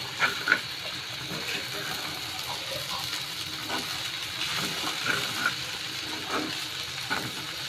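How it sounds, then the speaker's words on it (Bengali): Noodles with added spices cooking in a pan, a steady low sizzle with soft scraping stirs and a few light clinks, close and continuous, no voices. "আমি আর একটু নাড়াচাড়া করে রান্না করে নিচ্ছি"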